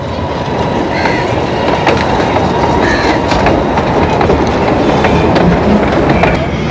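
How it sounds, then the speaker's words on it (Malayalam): A solar miniature train at a tourist village rolls past close by with a loud, steady rumble and rhythmic wheel clatter lasting throughout, no talk. "ഇതേ നമ്മുടെ ട്രെയിൻ വരുന്നുണ്ട്."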